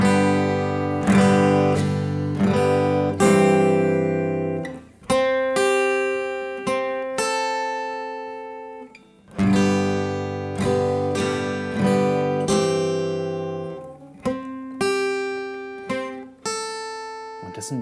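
An acoustic guitar slowly picks a melody, with clear plucked notes and occasional strummed chords that ring out and decay in an unhurried rhythm, close and alone.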